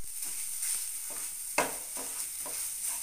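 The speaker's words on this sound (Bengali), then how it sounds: "চিনি দিয়ে আবারও একটু নাড়তে হবে।" Beet chhechki being stirred with sugar in a frying pan, with a steady soft sizzle and a spatula scraping in loose strokes, one sharper scrape standing out midway.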